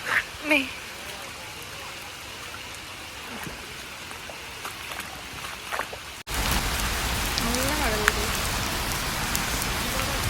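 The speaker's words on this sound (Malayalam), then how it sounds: "മഴ നല്ല കൂടിയിരിക്കുന്നു" Rain patters softly under a person talking, then abruptly becomes a loud, dense downpour that continues while the voice carries on.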